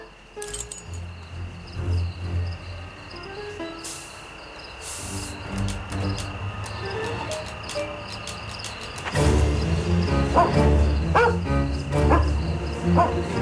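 Toby the dog in a Sherlock Holmes game, giving a few short barks and sniffs over a constant chirring insect bed, with clinking and scuffing growing louder later.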